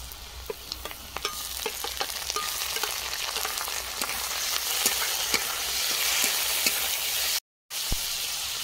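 Prawns fry in a pan with red chili powder, a close continuous sizzle broken by sharp spoon clicks and stirring scrapes, with a brief dropout near the end.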